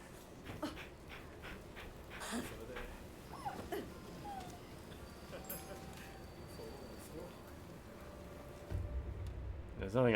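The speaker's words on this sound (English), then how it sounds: "Oh, I hear a good dog." A dog whimpers, pants and yips softly in a samurai action video game played on PS5 Pro, faint and intermittent amid game ambience, with someone talking over it.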